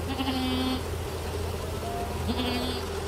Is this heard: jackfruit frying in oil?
no